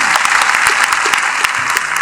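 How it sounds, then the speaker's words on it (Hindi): A Hindi comic poetry gathering's audience claps together in dense, loud, continuous applause that fills the hall. "एक बार तालियां बजा करके"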